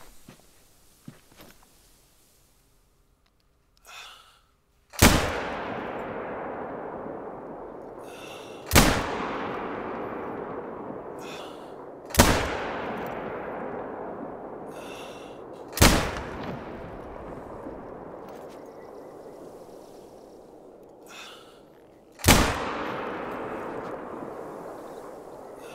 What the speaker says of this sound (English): So even at 500 meters, the 243 is quite easy to shoot.